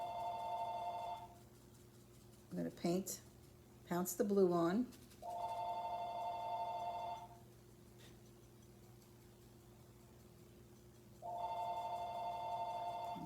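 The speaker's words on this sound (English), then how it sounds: "my phone is ringing" A telephone bell rings loudly in a steady repeating tone in a room where ceramic work is underway, sounding in three bursts with a person speaking in between.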